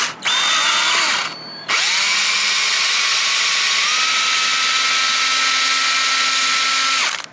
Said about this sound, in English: I'm drilling through a thin PVC lid.